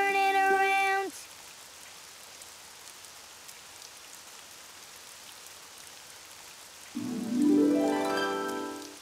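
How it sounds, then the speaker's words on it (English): Steady rain falls outside as a constant soft hiss, with brief musical tones at the start and end. "Oh, it's raining outside."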